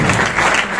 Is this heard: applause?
yes